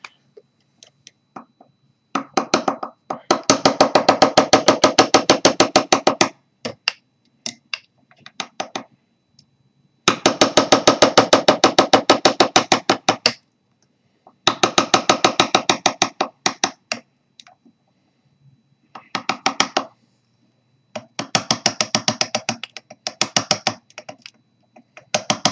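A cheap homemade graver is tapped with a small hammer to cut lines into a hobo nickel, giving bursts of rapid, bright metallic ticks in quick rhythm, close and clear, broken by short pauses, with no talking.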